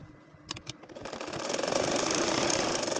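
A household sewing machine stitches a nakshi kantha date-palm-leaf design, starting with a couple of clicks then ramping into a steady, fast mechanical whirr with rapid rattling needle strokes, close up and without speech.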